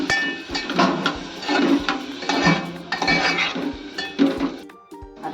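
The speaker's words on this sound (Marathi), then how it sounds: "आता झाकणी मारून ठेवते" A metal lid goes onto a cooking pot of tomato saar with a rapid run of close metallic clinks and clanks, rattling irregularly for several seconds.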